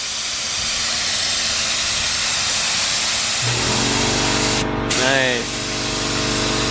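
A spray gun blasts paint into a 240SX engine bay, starting as a soft hiss and then jumping to a loud, steady rushing spray. A short voice cuts in partway through.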